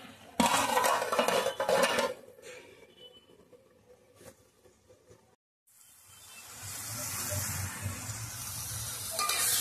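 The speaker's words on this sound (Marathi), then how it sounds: "यावरती मी झाकण ठेवून घेते।" Metal cookware clatters as a lid is set onto a pan of cooking fenugreek greens, a few sharp clanks up front, then a quiet pause before a soft steady sizzle of oil rises underneath.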